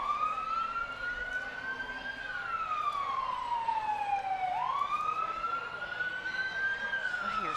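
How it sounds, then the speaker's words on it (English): An emergency vehicle siren wails at a Christmas parade, its pitch sweeping slowly up and down in long cycles, moderately loud and steady throughout. "I hear sirens."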